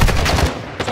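Video game gunfire: a quick, loud burst of rapid shots with a booming low end, lasting under a second and fading at the close.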